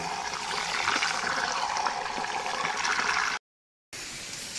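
Water poured over rice to soak it before cooking, a steady splashing, trickling stream close by, cut off by a short silence before resuming.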